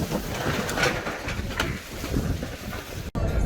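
Strong, gusty winter wind buffets a car driving past Jelenia Góra, making a loud, steady roar with swelling gusts. The sound briefly cuts out just before the end.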